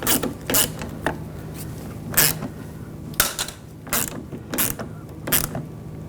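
Fastener being tightened on a door handle reinforcement of a 2000-2006 BMW X5, heard as a series of short ratcheting clicks and creaks in uneven bursts, close and moderately loud with no talking.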